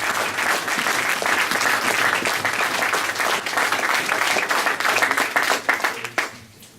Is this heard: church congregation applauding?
yes